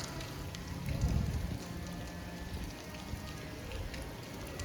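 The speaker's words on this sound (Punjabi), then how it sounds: "ਹਲਕੀ ਹਲਕੀ ਬੂੰਦਾਬਾਂਦੀ ਹੋ ਰਹੀ ਆ" Light drizzle falls outdoors near high mountains outside a gurdwara gate, a soft, even patter of raindrops steady throughout with no voices.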